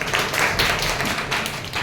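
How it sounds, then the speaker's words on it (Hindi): A short burst of clapping from a small group at a public speaking class, brisk and scattered, fairly close, with no talking over it. "ठीक है, बढ़िया किया, जोरदार ताली।"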